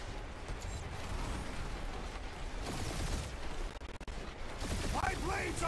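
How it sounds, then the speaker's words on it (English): Sustained gunfire and explosive bursts from a Guardians of the Galaxy video game battle fill the whole stretch, dense and loud, with character voices talking over the combat noise. "We're taking fire!"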